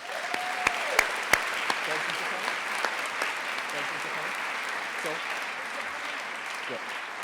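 Steady applause from an audience at a youth awards ceremony, honouring the award judges, with a few sharper claps standing out near the start and a soft wash of voices under the clapping throughout.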